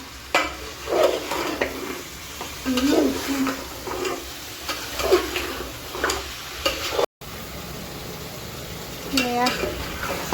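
Goat meat sizzles in a pan while a spoon stirs it in repeated scraping bursts, with faint background noise and no talking.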